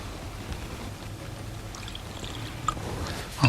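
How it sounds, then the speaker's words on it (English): A frothy homemade chocolate drink, whisked with egg and flavoured with chili, pours into a cup in a continuous close splashing trickle that swells slightly just before it stops. "I'll pour myself a modest cup and just see what it tastes like."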